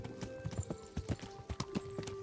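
Horse hooves clip-clop at a steady walking rhythm in the medieval game Kingdom Come: Deliverance, close and distinct over a low ambient hum, with a faint whinny-like tone and no talk.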